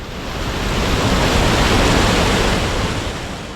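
Steady, dense rush of falling water from an artificial waterfall fed by diverted stream water at a lake in Siran Valley, Pakistan, continuous and loud like broad white noise, with no voices.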